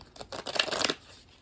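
A deck of oracle cards is shuffled in one quick, soft riffle burst of papery flicks lasting about half a second, close and quiet, with no talking.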